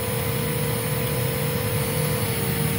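A Hoover Z400 vacuum cleaner motor runs in a loud, steady whine with a constant pitch and an even airflow roar throughout, with no voices.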